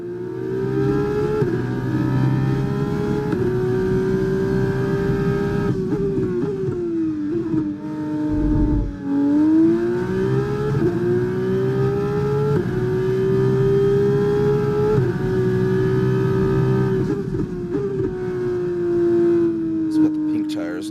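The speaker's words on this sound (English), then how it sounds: "the Formula 2 and Formula 1 engines sound so good" High-revving Formula 2 and Formula 1 car engines in the F1 25 video game at Monaco whine continuously, pitch rising and dipping with gear changes, with a voice talking over them.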